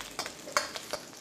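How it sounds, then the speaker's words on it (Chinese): Garlic slices stir-fry in hot oil, with quick spatula scrapes and taps against the wok over a soft sizzle, several short strokes in rapid succession. "炒出油后下蒜片"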